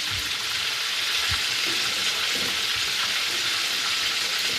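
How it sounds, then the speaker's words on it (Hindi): Garlic, ginger, onion and green chillies fry in oil in a kadhai with a steady, close sizzle and occasional soft stirring knocks. "इन्हें मैं कलर इसका चेंज होने तक इसमें फ्राई करूँगी ऑयल में"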